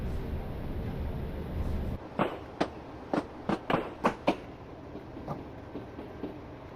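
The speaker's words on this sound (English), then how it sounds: "This is our train for today" An EWS Class 37 diesel locomotive, 37503, hauls a cement train of PCA wagons. A low steady rumble gives way to a series of sharp, rhythmic clanks and knocks from wheels passing over rail joints.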